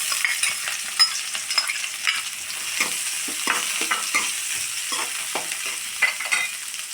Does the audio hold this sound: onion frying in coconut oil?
yes